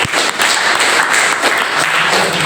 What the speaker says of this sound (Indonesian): Oke, kasih aplaus dulu buat Andrea.